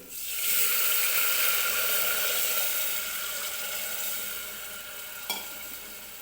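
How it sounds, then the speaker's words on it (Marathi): Plain unsalted water goes into a pressure cooker with a spiced mixture, setting off a loud rushing hiss that quickly swells, then slowly fades, with a single sharp knock near the end. "हे आळणी पाणी ओतून घ्यायचं कुकरमध्ये"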